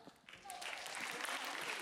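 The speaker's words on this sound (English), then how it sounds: "Can I have a big round of applause for yourself?" Weak, thin applause from students at a morning school assembly, faint scattered clapping that swells slightly and stays modest for under two seconds.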